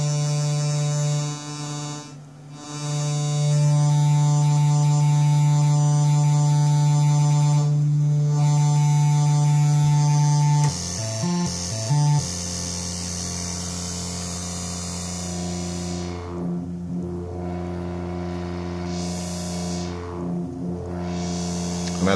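A DIY analog synthesizer wavefolder with FM modulation switched on plays a loud, sustained buzzing drone whose tone shifts and wavers partway through, with brief dips in level, and no voices.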